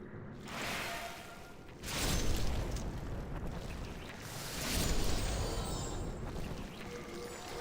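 Video game explosions during a boss battle, two heavy rumbling booms that swell and roll on with a whooshing wash of noise between them, loud throughout.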